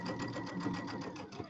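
A sewing machine stitching a half-inch seam on a Halloween settee pillow, a fast steady mechanical whir with rapid rhythmic needle clatter, close and continuous.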